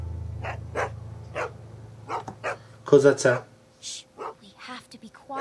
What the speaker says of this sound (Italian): Cane.